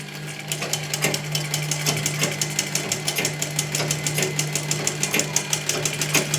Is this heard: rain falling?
no